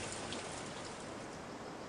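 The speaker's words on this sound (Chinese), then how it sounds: "带来了瓢泼大雨" Heavy monsoon downpour in the Dulong river valley, a steady dense hiss of rain falling continuously and evenly throughout, with no voices.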